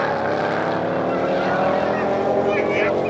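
Audi TT race cars with DSG gearboxes sit at a drag race start in Bottrop, engines droning loudly and steadily with a rising tone, an announcer talking over them.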